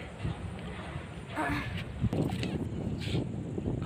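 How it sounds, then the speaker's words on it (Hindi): Strong wind roars and buffets the microphone in a steady low rumble, with louder gusts surging through for several seconds. "कितनी तेज़ हवा चल रही है"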